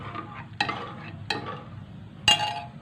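A spoon stirs sambar with added water in a pressure cooker pot, giving three separate metallic clinks against the rim over a soft scraping swirl, close and fairly loud.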